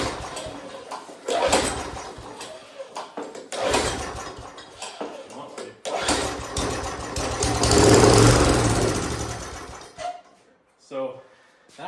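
Small engine salvaged from junk equipment starts up and runs, rough and uneven at close range, surging louder midway before cutting out near the end.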